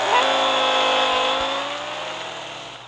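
A 2006 Porsche Carrera GT engine in Real Racing 3 holds a loud, steady high-pitched drone with rising then easing tone, fading slightly toward the end, with no other sounds over it.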